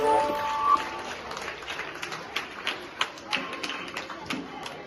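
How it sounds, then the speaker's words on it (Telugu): Children at a teachers' felicitation event organised by a Lions club in Kamala Nagar, Hyderabad, clap to welcome a guest onto the stage, a soft scattered patter that rises into irregular bursts and continues throughout, fairly distant. "పిల్లలంతా కూడా ఒక్కసారి చప్పట్లతో వారికి స్వాగతం తెలుపవలసిందిగా కోరుతాము"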